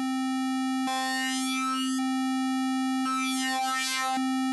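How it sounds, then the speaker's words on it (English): Halion Sonic Flux wavetable synth holding a steady tone while its LFO modulation switches on and off, with two bursts of bright, shimmering, fast-wobbling texture breaking in over the constant pitch. "So we're getting this effect where we're getting the modulation and then we're not."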